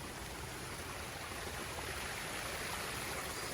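Water trickling and flowing in a garden pond, a steady broadband wash that holds even throughout, moderately close and alone with no talk.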